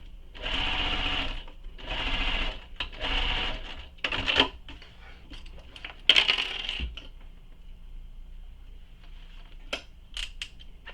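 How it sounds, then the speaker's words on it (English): A sewing machine runs a side gusset seam on a convertible bag in three bursts of rapid whirring stitches. Scattered clicks, snips and light handling knocks of fabric and hardware follow. "So there it is, again, sewing it with the seam allowance given in the pattern."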